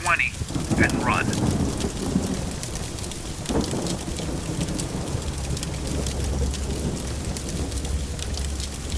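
A thunderstorm in the survival video game Undawn: steady heavy rain patters under rolling thunder, with a sharp crack near the start and a low rumble building later, plus faint indistinct voices.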